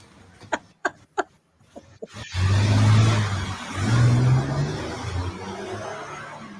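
A car sits idle after a few sharp knocks, then its engine revs loudly and it drives off, the roar swelling twice before fading.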